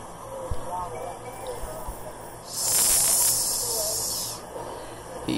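An animated steam locomotive lets out a loud, bright hiss of steam that bursts in suddenly, holds for about two seconds and cuts off, with quieter engine rumble and faint voices around it.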